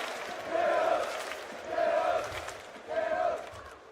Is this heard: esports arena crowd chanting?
yes